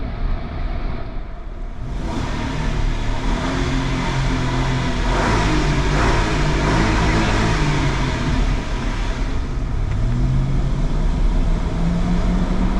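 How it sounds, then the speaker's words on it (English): A car drives through a mountain tunnel, a loud, steady road and engine roar that echoes inside the enclosed tunnel. The engine note rises and shifts, and voices talk over it at times. "So we get to go through the tunnel."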